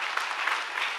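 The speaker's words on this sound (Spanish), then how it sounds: "Den un fuerte aplauso al Señor" A congregation at a church service applauds in a steady, dense wash of clapping that carries on without a break for the whole moment.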